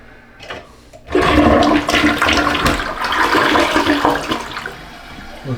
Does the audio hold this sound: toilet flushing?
yes